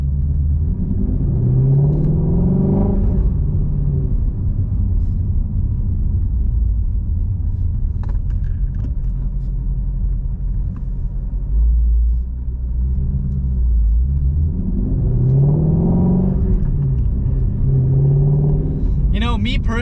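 A 2017 Ford Shelby GT350 V8 rumbles from inside the cabin while driving, with a deep, loud low-end drone, rising revs at moments and a driver's voice talking over it.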